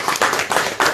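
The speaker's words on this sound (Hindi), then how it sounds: "जोरदार तालियों से इनका स्वागत करें।" An audience at a party gathering in Jammu claps in welcome, a brief, loud burst of applause heard up close in rhythmic pulses.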